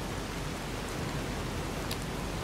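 Rain falls in the Fallout: New Vegas video game as a steady, even hiss that carries on unbroken, with no talk over it.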